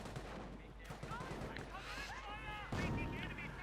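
Machine-gun fire and scattered gunshots in a Company of Heroes 2v2 battle on the Duclair map, a steady busy crackle of weapons beneath overlapping game voices, with a louder burst near the end.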